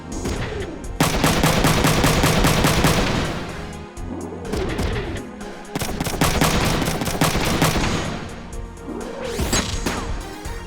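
Shotgun blasts from Front Mission 3 fire in loud, dense bursts with crashing impacts, separated by short pauses and a recurring swooping mechanical sound, all close and heavy.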